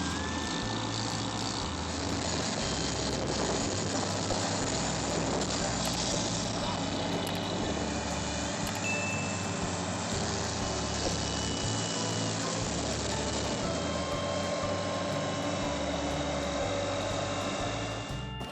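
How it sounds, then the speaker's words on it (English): A powerful John Deere tractor engine runs continuously in a muddy forest while freeing a stuck combine harvester, with a steady, droning mechanical roar and no voices. "A powerful John Deere tractor was immediately dispatched to assist, beginning a tense rescue operation."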